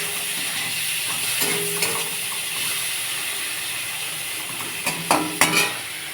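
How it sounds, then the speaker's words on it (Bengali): Potatoes and prawns fry in oil, a constant hissing sizzle with soft stirring scrapes and a few louder clattering strokes near the end, no voices. "আলুটা একটু ভেজে নিচ্ছি, চিংড়ি মাছটা ভেজে নিচ্ছি।"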